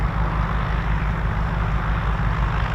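A Piper Navajo CXL with Lycoming TO 540 piston engines drones steadily overhead at RAF Waddington, a loud, continuous low-pitched throbbing roar with no talking.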